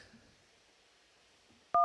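A single short telephone keypad tone rings out loud and close as 1 is pressed to accept an incoming call, after a near-silent stretch.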